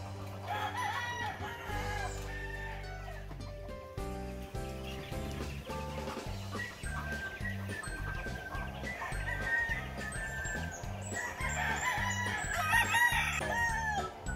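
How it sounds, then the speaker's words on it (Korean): Chickens cluck and roosters crow at a fighting-cock farm in the Philippines, a steady layered barnyard chorus close by, with repeated calls overlapping throughout and no talking. "사료를 잘 먹는 닭."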